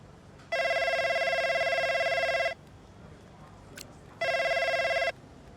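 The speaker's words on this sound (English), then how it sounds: "Devon, I'm ringing to chat further about Konosport" Telephone ringing in the racing game F1 Braking Point 3: two loud electronic trill bursts, one about two seconds long and a shorter one after a pause, with no talk over them.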